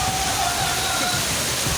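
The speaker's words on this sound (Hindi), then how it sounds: "पानी का इतना तेज प्रवाह कि इंसानों के पैर उखड़ रहे हैं।" Floodwater after heavy monsoon rain in Jodhpur, Rajasthan rushes in a loud, continuous roaring wash, with a voice faintly mixed in.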